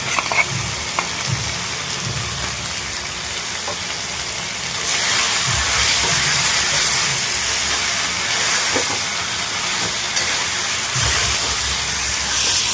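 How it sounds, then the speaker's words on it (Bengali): Fried prawns hit a hot wok for kathal chingri, jackfruit with prawns, and a loud, hissing sizzle surges about halfway through and stays steady, with occasional stirring clinks. "চিংড়ি মাছগুলো যেগুলো ভেজে রেখেছিল ওগুলো দিচ্ছে আর কি কড়াইয়ে।"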